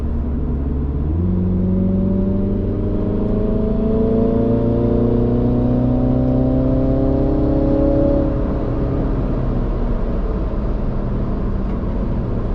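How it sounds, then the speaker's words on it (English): A Mini Cooper engine with a Forge Motorsports intake hardpipe pulls steadily under acceleration, turbo whine rising over a constant low rumble, heard from inside the car, before easing off near the end. "You can hear the turbo sounds a lot more from the inside of the vehicle."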